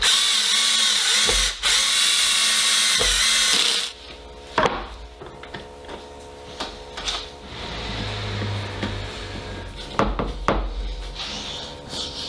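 A power drill drives drywall screws as locating pins into a glued-up wooden guitar body. A loud, sustained whir with brief pauses fills the first four seconds, then quieter clicks and handling noises follow.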